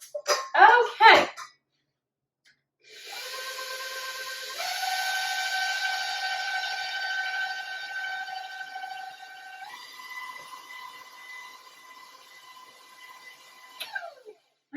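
An electric stand mixer whirs steadily while beating pumpkin cranberry beer bread batter, its tonal motor hum shifting pitch as the speed changes, after a brief burst of sound at the start, then cutting off near the end.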